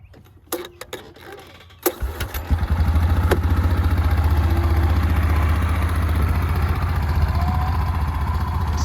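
A Yamaha Kodiak 450 four-wheel-drive ATV being pull-started outdoors in Minnesota, a few rattling cranks then the engine catching and settling into a loud, steady close idle.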